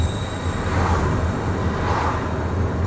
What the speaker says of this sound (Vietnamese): Ở đây có xe buýt